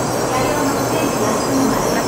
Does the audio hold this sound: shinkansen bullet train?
yes